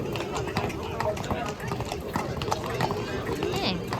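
Stallions' hooves clip-clop on a street at the Golega Horse Fair in Portugal, with horses stepping in piaffe and passage. The hoofbeats come in a steady, close rhythm under continuous nearby chatter.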